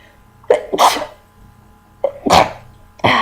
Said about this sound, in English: I've been sneezing like crazy the last couple days.